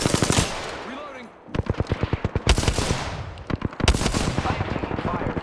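Loud, rapid automatic gunfire in the battle royale game Apex Legends rattles close up in dense bursts, pausing briefly before resuming in rhythmic volleys that carry through to the end.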